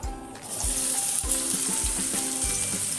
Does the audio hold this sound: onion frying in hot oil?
yes